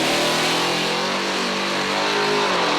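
A drag car with a 427 big block engine launches hard at higher RPM, a loud sustained roar with rising harmonics that stays near and dense for about three seconds.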